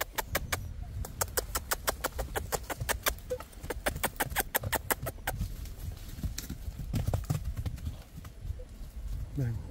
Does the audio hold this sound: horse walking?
yes